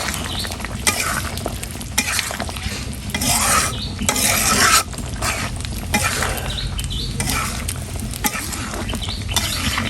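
Shing fish and potato curry with fish roe cooking in a pan, with a steady close sizzle and repeated scraping stirs across the whole stretch, no talking.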